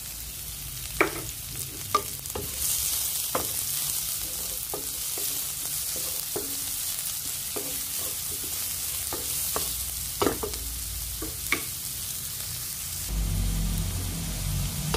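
Onion, garlic and ginger sautéing in a pan, a steady close sizzle with repeated scraping stir strokes spread across the clip and a louder burst of frying near the end, no voices.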